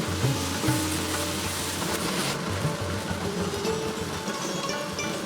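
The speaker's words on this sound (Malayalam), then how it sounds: "അപ്പോൾ ഒന്നുകൂടെ നമുക്ക് വഴറ്റിയെടുക്കേണ്ടതുണ്ട് കേട്ടോ" Onions sauté with salt in a pan for a Malabar fish curry, giving a continuous close sizzle with a few scraping stir strokes near the start and no voices.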